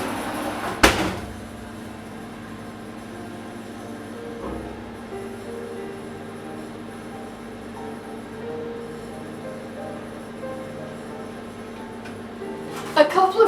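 A brownie tray slides onto the middle shelf of an oven, with a sharp thud as the oven door shuts, a low steady hum in between, and a brief metallic rattle at the end.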